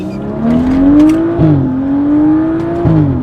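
A BMW N55 engine revs up in a sustained rising whine, dipping briefly twice as it shifts, loud and close with no talking.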